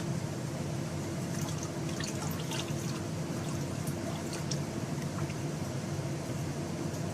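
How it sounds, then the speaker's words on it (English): Lye solution being poured for cold process soap, a steady faint liquid stream with small drips and splashes over a low background hum, continuous and close. "Here comes the lye solution."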